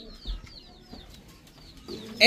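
Soft Pakistani Golden pigeon cooing, a few faint low murmurs repeating over a quiet background, with a sharp clatter at the very end.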